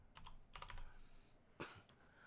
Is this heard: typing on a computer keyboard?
yes